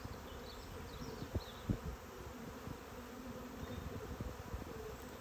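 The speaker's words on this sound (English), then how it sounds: "The bees are coming back and they're starting to crowd on the top of the frames." Honeybees buzz steadily in a dense, close swarm, with individual bees droning past and occasional bumps against the hive.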